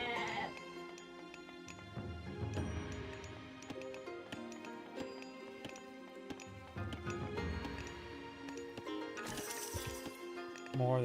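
Goats bleat in the strategy game Age of Mythology, mixed into busy game sounds and background music, with a commentator talking over much of the stretch.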